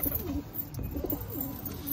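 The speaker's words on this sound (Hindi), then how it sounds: "ये गागरा देखो भाई कितना प्यारा कबूतर है" Pigeons coo softly and repeatedly at close range, low rounded calls rolling over one another against a steady background hum of a bird market.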